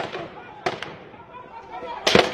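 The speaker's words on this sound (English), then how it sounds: "We were taking fire from multiple locations." Gunfire in a firefight in Mali: a few sharp, loud cracks spaced irregularly, the last one heaviest, with voices faintly present between the shots.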